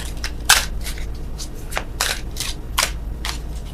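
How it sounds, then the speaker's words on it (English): Tarot cards are shuffled by hand in close, crisp riffling bursts, repeated irregularly with brief pauses between them. "Oh, worst shuffling in the world."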